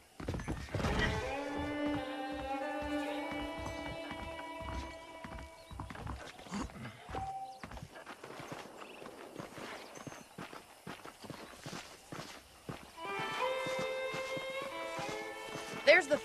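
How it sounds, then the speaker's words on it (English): Rhythmic clip-clop of saddled horses' hooves walking in the Western video game Red Dead Redemption, close and steady under music and game sounds, then quieter and pausing before resuming. "The horses are saddled up over here."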